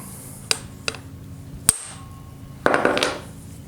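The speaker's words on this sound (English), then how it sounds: "I'm not even going to try to fool with these, getting them out without just going straight to the impact screwdriver." An impact screwdriver is struck to loosen old screws on a 1972 Honda CB450 motorcycle: three sharp metallic hammer blows ring out, followed by a short rattling clatter of metal.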